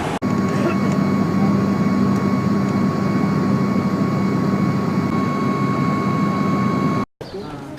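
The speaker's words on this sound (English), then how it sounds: "Now we're about to get on the airplane to head up to Skardu." Steady, loud airplane engine drone at close range on the ground before a flight to Skardu, holding an even tone with faint whine lines throughout, then cutting off abruptly near the end.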